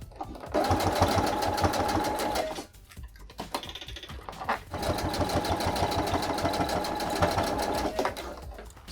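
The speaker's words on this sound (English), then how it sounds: "I'll see if the sewing machine can actually get through all of this" A sewing machine stitches through thick fabric in fast, steady bursts, briefly pausing midway before resuming its rapid, loud mechanical chatter.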